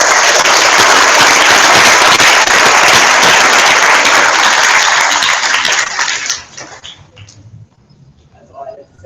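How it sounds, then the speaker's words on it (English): An audience gives a big round of applause during a Canadian ambassador's visit, loud dense clapping that runs for about six seconds, then thins to scattered claps and fades. "So let's have a big round of applause for all of you."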